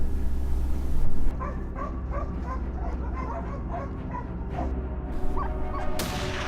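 Several hunting dogs on a wild boar hunt bark and yip excitedly at a distance, overlapping in irregular bursts, with some whimpering over a low steady outdoor rumble.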